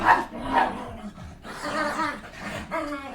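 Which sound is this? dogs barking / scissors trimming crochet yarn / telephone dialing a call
dogs barking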